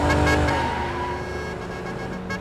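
A car driving fast in traffic, a loud, steady engine roar and road rush close by that slowly eases in level, with no voices over it.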